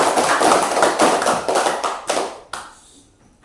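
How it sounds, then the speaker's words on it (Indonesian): A classroom group claps after a presentation, dense applause for about two seconds that thins into scattered claps and fades out. "Tepuk tangan untuk kelompok C."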